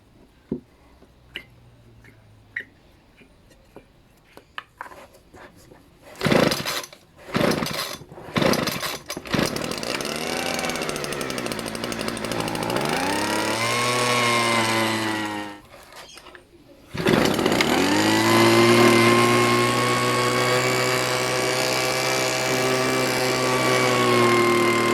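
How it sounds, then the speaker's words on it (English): A Homelite Mighty Lite leaf blower's small two-stroke engine is primed with a few clicks, pulled several times with brief sputters, then catches and runs steadily at a buzzing idle, cuts out briefly and restarts louder. "let's try to fill this with fuel and start the engine"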